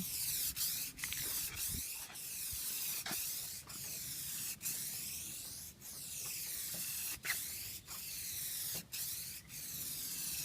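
Dip coating is sprayed onto a Mustang GT in a dozen or so sharp hissing bursts, each followed by a brief pause, in a steady back-and-forth rhythm close to the nozzle.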